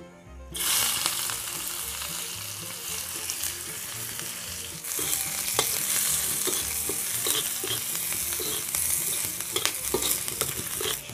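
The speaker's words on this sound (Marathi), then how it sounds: "आता आपण फोडणी देतोय" Crushed onion and garlic hit hot oil for a tempering with a loud, bright sizzle that surges again partway through, punctuated by scraping stir strokes in the pan.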